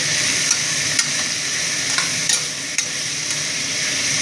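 Onions frying in oil for a puffed-rice oggarane, a loud, even, hissing sizzle that goes on without a break, marked by a few sharp ticks of a spatula stirring the pan, with no voices.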